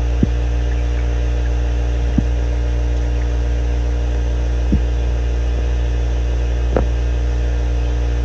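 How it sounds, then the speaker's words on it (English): A truck's air compressor drones on with a steady low mechanical hum without pause, with a few faint clicks and thumps scattered over it and no voices. "Okay, so I've got the air compressor turned on"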